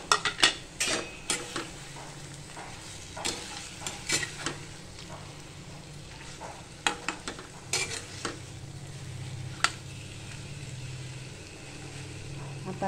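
Ghee-fried paneer being stirred into a cooked masala for kaju paneer masala, with repeated clinks and scrapes of a spoon against the pan over a low sizzle, no talking.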